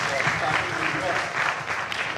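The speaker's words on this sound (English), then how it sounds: "A round of applause for Tandy." A crowd at a college silver jubilee reunion claps in steady applause that fills the room, with voices audible underneath.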